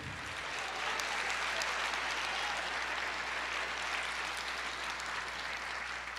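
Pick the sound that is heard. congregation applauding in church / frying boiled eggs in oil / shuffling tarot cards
congregation applauding in church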